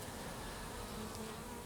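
Honeybees fanning at a hive entrance after a swarm introduction, a steady faint buzzing drone with no pauses, close and even throughout.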